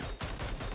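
Gunfire in the PUBG video game, including a Mini 14 rifle, comes as a dense, loud burst of rapid shots with no talk over it.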